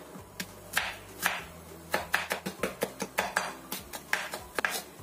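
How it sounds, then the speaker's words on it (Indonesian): Garlic is crushed and then coarsely chopped with a knife on a board, giving a string of sharp close knocks that quicken into a steady chopping rhythm. "Kita keprek kemudian cacah besar aja, biar lebih keluar aromanya."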